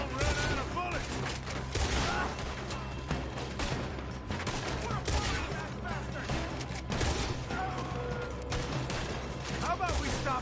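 Gunfire in Red Dead Redemption 2 during a shootout after a robbery, with dense, rapid volleys of rifle and pistol shots cracking throughout while voices talk over the fighting.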